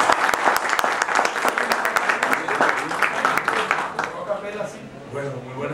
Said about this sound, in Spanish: vamos a recibir con un fuerte aplauso al maestro